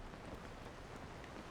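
Rain falls in the video game Zelda: Tears of the Kingdom as a faint, steady, even hiss that continues throughout without breaks.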